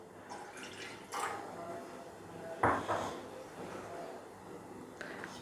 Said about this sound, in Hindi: और इसमें थोड़ा सा पानी शामिल कर लेंगे।